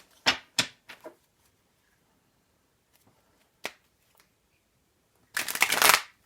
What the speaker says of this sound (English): Let's just mix these beautiful cards again.